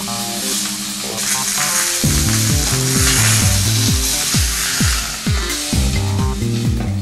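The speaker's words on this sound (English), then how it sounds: "Turn it over and brown the other side in exactly the same way" Meat browning in a Kuhn Rikon Durotherm pan, a loud, bright, constant sizzle with a layered tonal hum and recurring descending tones running underneath.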